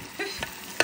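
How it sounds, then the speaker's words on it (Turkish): Onions frying in butter over low heat in a home kitchen pan: soft sizzling with a few quick stirring scrapes, close and brief. "Güzelce kavrulsun kısık ateşte."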